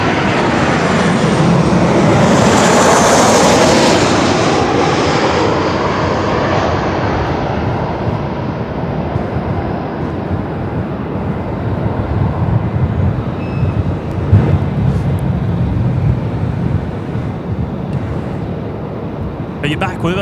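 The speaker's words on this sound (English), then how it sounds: "There's our next arrival coming in from Brizzy." Qantas flight 621, an airliner in from Brisbane, arrives at Melbourne Airport with a loud, close jet roar whose pitch sweeps downward as it passes and slowly fades over about twenty seconds, with faint voices underneath.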